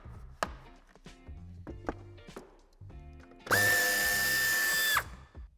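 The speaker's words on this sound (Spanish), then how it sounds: "Una vez hemos aflojado el tornillo de la parte superior" A power drill loosens a bumper screw on a 2019 BMW 4 Series G22 coupe, with several taps and clicks of handling followed by one loud steady whir of about a second and a half, close by.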